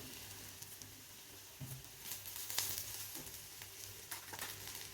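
Onions and curry leaves sauté in a pan, giving a soft, quiet sizzle with faint scraping from occasional stirring.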